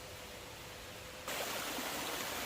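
A waterfall beside a hiking path in Betong, steady broadband rushing that jumps louder partway through, constant and fairly distant with no voices.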